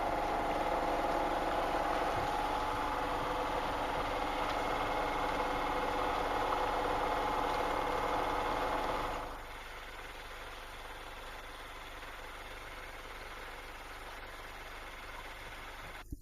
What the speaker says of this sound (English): Just killed the engine for a moment or two to see if I can sail against.